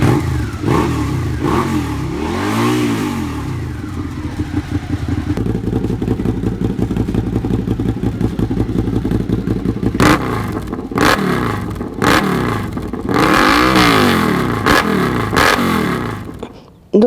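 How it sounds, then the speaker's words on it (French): A motorcycle with a decatalysed exhaust and the baffle removed revs hard and repeatedly, with loud, rising and falling engine roars and a steady throb between bursts, close and continuous throughout. "le pot décatalysé, ça fait un sacré bruit quand même"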